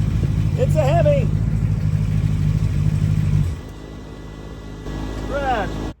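A rebuilt 426 Hemi V8 runs with a loud, steady low rumble for about three and a half seconds, then settles into a quieter idle, with short bursts of talk over it near the start and end.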